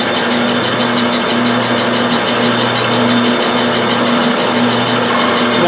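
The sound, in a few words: metal lathe facing cut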